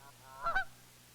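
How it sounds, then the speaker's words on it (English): A goose gives two short, nasal honks close together, loud and clear against a quiet background hum. "A goose is more complex still."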